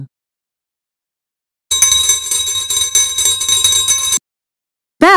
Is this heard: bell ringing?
yes